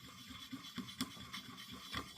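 Pottery paint pigment being ground down to a fine powder, heard as quiet gritty scraping strokes in an irregular rhythm, close up, with a few slightly sharper rubs.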